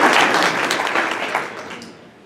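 Audience applause after a sold-out Nutcracker ballet run near Orlando, a dense burst of clapping that gradually fades over about two seconds.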